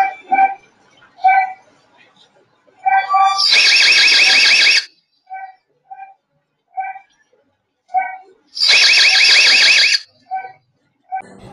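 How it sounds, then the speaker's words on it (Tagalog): A security camera's active-defense alarm blares in two long, loud siren bursts, separated by short beeping tones and quiet gaps. "Naka-active defense na rin na kusang nag-a-alarm at iilaw kapag may nadetect"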